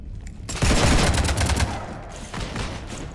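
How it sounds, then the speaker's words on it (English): Rapid bursts of gunfire rake a ship in the Mass Effect 3 video game, a loud dense fusillade that peaks early and then trails off in scattered, echoing shots. "You want to stop shooting up my ship?"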